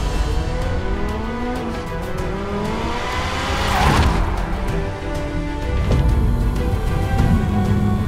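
Engines roar and rise in pitch as cars race past, with tires squealing and a sweeping pass near the middle, loud and continuous.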